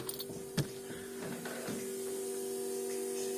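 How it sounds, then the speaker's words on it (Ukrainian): Electric fuel pump fitted to a ZAZ Tavria car hums steadily and fairly quietly, a constant drone running through the whole stretch with a couple of faint clicks near the start. "Чути гудить насос. Ось він працює."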